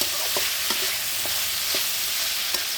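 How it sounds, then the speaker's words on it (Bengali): Potatoes stirred and fried with spices in hot oil, a steady close sizzle broken by regular scraping strokes of a spoon against the pan, no voices. "আলুগুলো আমি ভালো করে মশলার সাথে কষিয়ে নিচ্ছি তেলের মধ্যে।"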